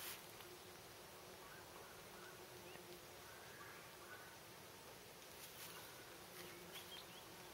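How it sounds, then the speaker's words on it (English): A bee buzzing in a garden of flowers and compost, a faint steady drone close by that persists throughout alongside quiet outdoor ambience. "There's a beautiful bee up there."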